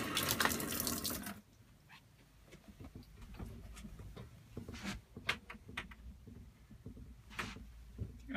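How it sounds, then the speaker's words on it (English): A newly fitted kitchen sink tap in a caravan runs with a loud rushing gush for about a second, then stops, leaving quiet drips and light knocks in the small space. "when I turn that on, water pours out of the bathroom cabinet and onto the floor"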